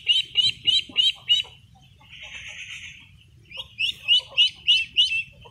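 Ducks being vaccinated against duck plague give harsh, repeated calls in two bouts of about five rapid, evenly spaced notes, with a brief rougher squawk between them, all loud and close.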